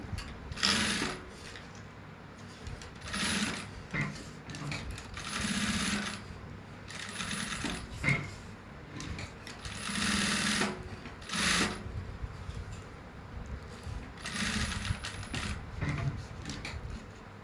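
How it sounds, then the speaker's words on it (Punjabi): A sewing machine stitches fabric for a garment neck design. It runs in short mechanical bursts separated by pauses, quiet and close, with no voices. "ਫੁੱਲ ਵਖਾ ਕਰਕੇ ਪੰਜ ਤੇ ਵਖਾ ਕਰਕੇ ਆਪਾਂ ਇੱਥੇ ਸਲਾਈ ਲਗਾਉਣੀ ਆ"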